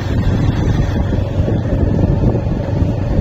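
Strong wind roars steadily across the microphone by the sea at Gangamati beach, Kuakata, a dense, continuous rumble with no voices.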